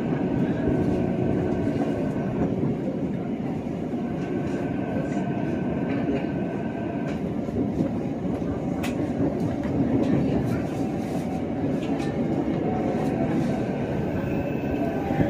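KRL commuter train at Bekasi station, Indonesia: a steady, loud rumble of the moving train fills the whole stretch without a break, with faint rattles and occasional clicks on top.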